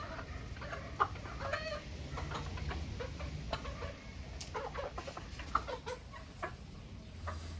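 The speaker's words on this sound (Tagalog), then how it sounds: "Yan yung tumitilaok sa kanila eh." Roosters and chickens at a backyard coop in hot summer weather, with repeated clucks and calls over a steady low hum, fairly close, no talking.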